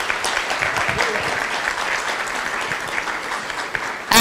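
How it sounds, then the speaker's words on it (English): Loud, sustained applause fills a big room at a women's fellowship gathering, many hands clapping densely and evenly for the full few seconds with crowd murmur mixed in. "Can we give Makata another round of applause?"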